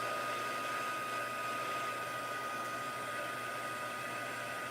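A heat tool blows hot air to melt embossing powder on foil for a watercolor craft piece, a steady, close, loud whooshing hiss like a hair dryer, continuous with no talking.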